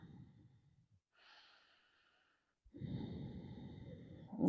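Slow deep breaths during a foot massage stretch, a long airy exhale, a soft pause, then another heavy close breath.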